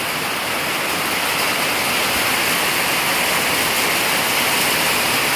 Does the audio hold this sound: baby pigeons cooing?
no